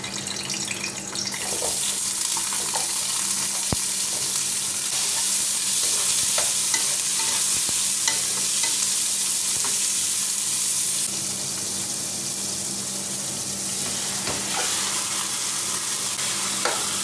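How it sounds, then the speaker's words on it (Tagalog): Galunggong fish is sautéed in a pan, giving a steady, loud, hissing sizzle that lasts the whole time, easing slightly near the end, with no one speaking. "umpisahan na natin ang paggigisa ng galunggong"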